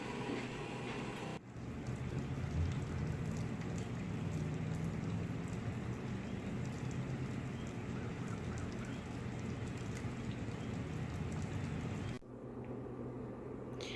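Rain falls outside on a chilly, grey day as a steady, even hiss of dense patter. It starts abruptly and cuts off before the end, with no voices over it.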